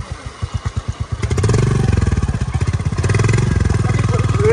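A Royal Enfield Hunter 350 motorcycle engine idles with a slow, even thumping, then revs up into a loud, steady rumble close by.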